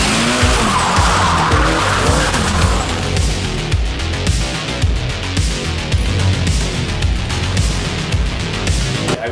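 Drift car skidding through a hairpin turn, a loud continuous roar of screeching tires and revving engine that holds steady and close for the whole stretch.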